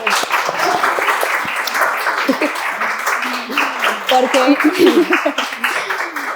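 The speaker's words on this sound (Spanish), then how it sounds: "el equipo les pide un aplauso que nos quede en cámara" An audience applauds the women's work team behind a Colombian burger restaurant that grew from a street cart, with moderate clapping under a speaking voice.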